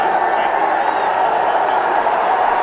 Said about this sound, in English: the crowd is roaring